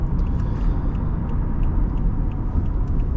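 Inside a 2010 Toyota Camry LE 2.5 with a six-speed automatic on steel wheels, a steady, smooth low road-and-engine rumble fills the cabin at an even level, with no talking.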